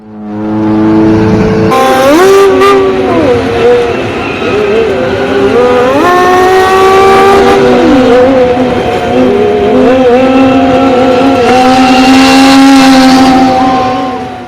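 A cheap junker car converted for racing, its engine roaring loudly on track, with the pitch rising and falling through shifts as it accelerates, dominating throughout.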